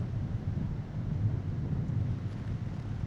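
Strong wind gusting across an open golf course, roaring steadily and loudly with a deep rumbling buffet on the microphone and a large gorse bush thrashing nearby; no voices.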